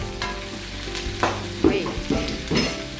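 Tomatoes going into a hot frying pan for a Filipino vegetable dish, with a steady sizzle and several soft clattering stirs at regular intervals, close and moderately loud, no talking.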